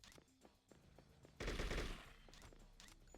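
Automatic rifle fire from an AK in the video game True Crime: New York City, a loud dense burst of rapid shots lasting about half a second amid quieter game sounds, with no talk.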